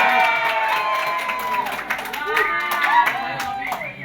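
An audience at a gathering claps in continuous applause, a steady wash of hand claps with voices mixed in and some talking over it.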